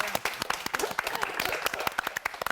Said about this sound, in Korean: 우리 반장에게 격려의 박수.